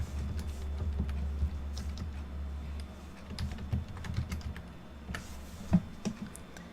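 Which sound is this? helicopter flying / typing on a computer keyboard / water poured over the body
typing on a computer keyboard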